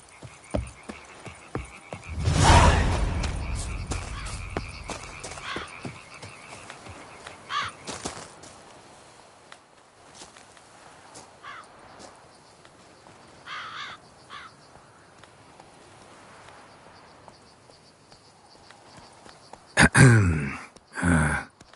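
Crows cawing in the video game The Witcher 3, with harsh croaking calls scattered across an outdoor ambience, one loud call early on and another cluster near the end.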